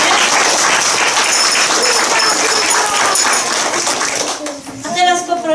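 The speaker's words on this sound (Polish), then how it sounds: "Wielkie brawa!" Loud, sustained applause from a crowd of children at a school Saint Nicholas Day event, steady clapping that thins near the end as voices rise.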